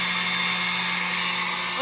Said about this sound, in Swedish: Och fläkten. Fläkten, men den jobbar på.